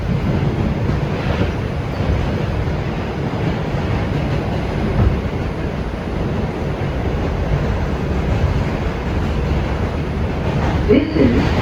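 An R142 New York City 6 local subway train rumbles steadily along the tracks between Hunts Point Avenue and Castle Hill Avenue, a loud continuous roar with rattling and wind-like rushing throughout.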